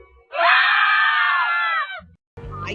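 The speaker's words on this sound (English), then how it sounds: "Scream." A long, loud, sustained scream in an analog horror broadcast, wavering for about a second and a half before cutting off, followed by a brief low thump and a burst of garbled noise.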